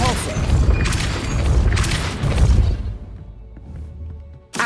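The Depulso spell in Hogwarts Legacy lands as a dense, booming magical blast with crackling debris over rumbling low end, then quickly thins to a quieter tail before a final short burst.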